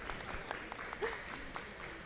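Audience applause at an East African Business Week panel, a quiet, fairly steady patter of many hands clapping, heard from some distance across the room.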